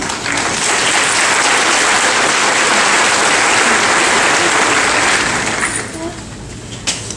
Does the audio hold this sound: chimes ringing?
no